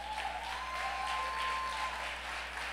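A church congregation applauds the Lord for someone's life, a soft, steady patter of many hands heard from a distance under a low hum, with a faint sustained tone drifting through.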